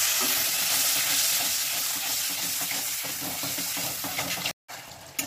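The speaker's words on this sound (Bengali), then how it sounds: "মশলাটাকে একটু জল দিয়ে কষিয়ে নেব" A Bengali spice paste of chili and coriander powder frying with a splash of water, giving a loud, dense, continuous sizzle with faint stirring scrapes underneath and a brief cut near the end.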